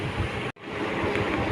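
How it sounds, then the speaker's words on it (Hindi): Water pours steadily into a pot of mutton paya, a continuous close rushing splash broken by one brief gap. "और अब शामिल करते हैं इसमें पानी।"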